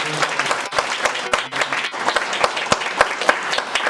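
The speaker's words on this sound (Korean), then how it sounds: "박수로 환영하겠습니다." A church congregation claps to welcome a new member during a service: a short burst of dense, lively applause from a seated group indoors, fairly loud and close.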